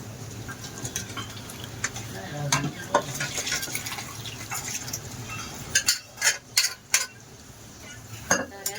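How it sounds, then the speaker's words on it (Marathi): Goat tripe going into hot masala in oil in a home kitchen pan, stirred with a metal spoon: a steady frying sizzle under scraping, then several sharp clinks of the utensil against the pan. "मसाल्याला व्यवस्थित तेल सुटलेलं आहे. आता आपण वजडी टाकून घेऊया."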